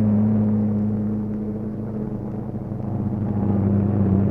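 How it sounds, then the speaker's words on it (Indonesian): Heavy engines rumble steadily in a low, droning hum that holds nearly constant and close, with a slight dip midway before swelling again. "Tampak barisan mesin penggilas jalanan bergerak bersama."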